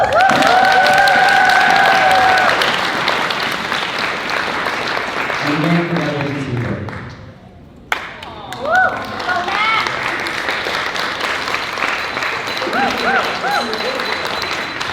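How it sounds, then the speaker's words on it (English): Wedding guests applaud and cheer at a reception, loud clapping mixed with whoops and scattered voices, dipping briefly before a speaker talks over the renewed crowd noise. "So let's clap for this side too."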